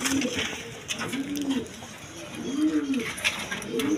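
A pair of healthy pigeons coo repeatedly in a steady rhythm, several rolling low coos spaced about a second apart over a faint hiss of background noise.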